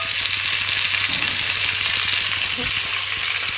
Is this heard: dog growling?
no